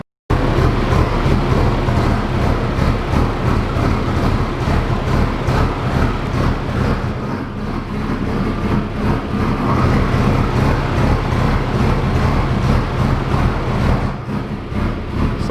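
A Cummins turbo-swapped Volvo wagon running hard on a dyno, its loud, rough, continuous engine roar sustained throughout with a brief dip midway before climbing again, close and alone without talking.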